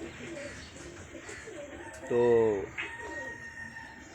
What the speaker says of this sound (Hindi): ये मुकम्मल कबूतर हैं जिनके रिज़ल्ट भी होंगे